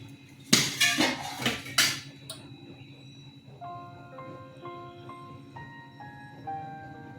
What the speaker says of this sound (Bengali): ঠিক পঁচিশ মিনিট পর আমি ঢাকনাটা খুলেছি